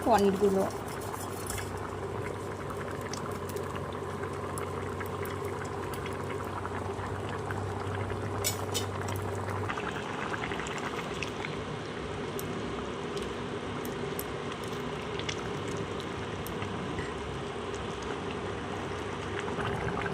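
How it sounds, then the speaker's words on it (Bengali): Curry gravy for chana paneer bubbles steadily in a pot, a continuous soft boiling burble that holds even throughout with no distinct breaks. "দেখো বন্ধুরা ঝোল ফুটে উঠেছে"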